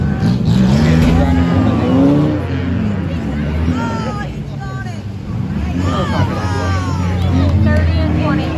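Race cars roar around a damp track during an enduro race, engines rising and falling in pitch as they pass and shift, with a commentator talking over the steady motor noise.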